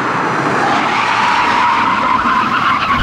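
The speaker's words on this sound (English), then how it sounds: "just hit the brakes as hard as possible and see how long they take to come to a complete standstill" Tires squeal and skid loudly as a car brakes as hard as possible from 120 in a braking test, a continuous harsh screech with a rising and falling tone heard for its whole length.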